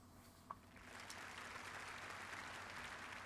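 Snooker 19 video game crowd at the Indian Open quarter-final breaking into steady applause that swells after a brief click and holds at a moderate, even level.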